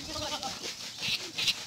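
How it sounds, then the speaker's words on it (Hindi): Beetal goats, a pure breed on a goat farm with about 200 animals, bleat in a busy, overlapping chorus of several calls, with brief murmuring of human voices mixed in. "ये देखें जी माशाल्लाह जो है ये फार्म है बीतल बकरियों का"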